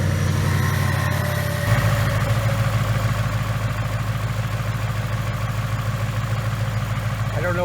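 A 2018 Ford Mustang GT with a new 5.0 engine idles steadily and close by, its low, even rumble running throughout while a voice speaks over it.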